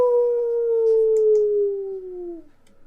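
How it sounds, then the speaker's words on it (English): A ghostly, drawn-out howl from the Dover Ghost in Dream Daddy: a single loud, smooth tone that slowly falls in pitch and then fades with a wavering tremble at the end. "A howl originates through the woods. It doesn't sound like a regular howl."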